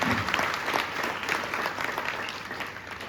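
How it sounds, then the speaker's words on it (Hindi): A church congregation at a Hindi-language prayer meeting claps together in thanks, a dense, steady wash of applause that stays loud and even for the whole stretch with no voices above it. "आइए हम ताली बजाकर प्रभु की उपस्थिति के लिए धन्यवाद दें"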